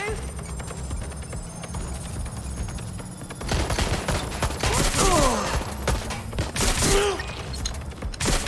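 Rapid bursts of automatic gunfire crackle through a Watch Dogs: Legion firefight, intensifying midway into dense, overlapping volleys with a character's voice calling out underneath.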